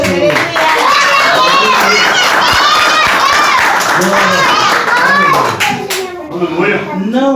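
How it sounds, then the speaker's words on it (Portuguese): Church congregation clapping rhythmically during a Portuguese worship service, loud and close, with voices singing or calling out over the beat and a brief dip near the end. "Aí pode dar uma salva de palmas."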